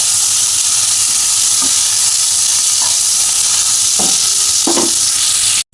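Pointed gourd (potol) pieces frying in a pan for a vegetarian Bengali lunch curry, a steady close sizzle and hiss with a few soft stirring scrapes, ending abruptly.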